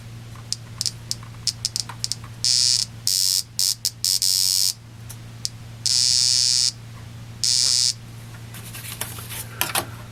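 A small kit-built continuity tester sounds its buzzer in several bursts, a shrill steady electronic tone that switches on and off irregularly over a constant low hum, with brief clicks of the probes between beeps.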